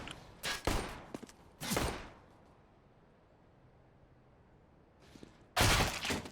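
Several sharp gunshots crack out in a quick burst, followed by a quiet pause, then more shots ring out near the end.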